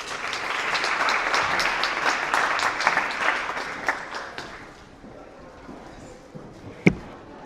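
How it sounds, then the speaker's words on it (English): A press conference audience applauds together at a housing voucher event; dense steady clapping holds for about four seconds, then thins and fades, ending with a single loud close clap or knock. "I'm going to give another round of applause for our sponsors."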